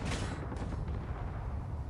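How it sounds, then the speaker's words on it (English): Gunfire in a space-fighter combat video game, with drone fighters in the battle: a steady, noisy barrage of shots that holds at an even level from start to finish, with no other sounds over it. "Mystery bullets. Mystery gunfire."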